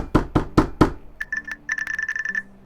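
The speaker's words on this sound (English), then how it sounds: "You hear a knock at the door." Four firm knocks on a door in an even rhythm, close and distinct, followed by a faint cluster of electronic tones.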